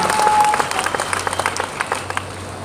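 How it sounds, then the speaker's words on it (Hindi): Audience applause at a company leadership event, a burst of many hands clapping together that starts full and thins into scattered individual claps. "ऐसे एग्जाम्पल्स के लिए जोरदार तालियां होनी चाहिए"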